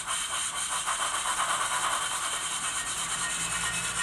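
An OO gauge 2-6-2T model steam locomotive with a Soundtraxx Econami ECO 100 sound decoder, giving a steady hissing exhaust chuff while its wheels slip, loud, continuous and without talk.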